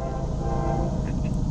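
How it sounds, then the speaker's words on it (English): A long CSX manifest freight train passes close by with a loud, steady rumble and rail clatter, and a horn-like tone briefly rises above it. "Friday afternoon train action."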